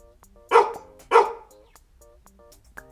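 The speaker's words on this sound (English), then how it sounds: "The dogs in a neighborhood bark loudly." Dogs in a neighborhood give two loud, sharp barks about half a second apart, close by, followed by faint background noise.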